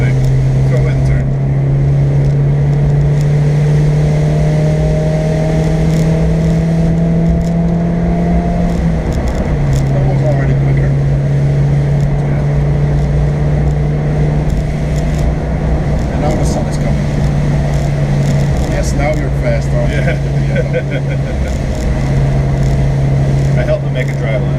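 A car drives the Nurburgring Nordschleife slowly in the rain, its engine droning steadily with a shifting pitch and a brief dip partway through, under constant road and interior noise.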